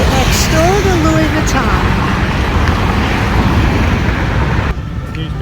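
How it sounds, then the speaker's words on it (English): Traffic on the Champs-Élysées in Paris: cars whoosh past close by in a loud, continuous roar, with a brief faint voice early on and the din dropping slightly near the end. "The cars are going to go whizzing by"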